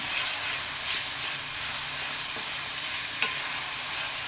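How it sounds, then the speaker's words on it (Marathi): Potatoes and softened onions frying in oil in a pan give a steady, close sizzle, with a couple of brief stirring clicks and no voices. "बटाट्याला थोडंसं आपण फ्राय करून घेऊया तेलात।"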